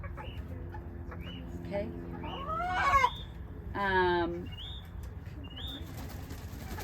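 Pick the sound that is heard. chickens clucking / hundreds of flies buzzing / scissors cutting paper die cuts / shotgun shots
chickens clucking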